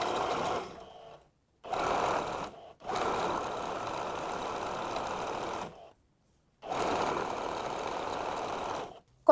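A sewing machine stitches a decorative drawstring cord for trousers, running in steady whirring bursts separated by brief pauses, close and clear with no talk over it.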